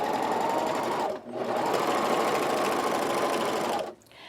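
A serger sewing machine runs the final pass along a tee shirt hem, a loud, close, steady whir that pauses briefly near one second, resumes, then stops.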